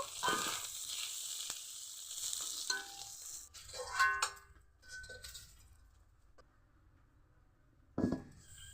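Soft sizzling of lentils lightly frying with turmeric powder in a wok that fades away, broken by occasional light clinks and scrapes of a spoon.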